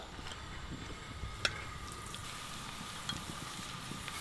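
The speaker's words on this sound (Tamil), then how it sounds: "திராட்சை பொரிய பொரிய கலர் மாறுது பாருங்கள்" Raisins frying in oil for biryani give a soft, constant sizzle with faint bubbling and an occasional small pop, heard close and quiet throughout.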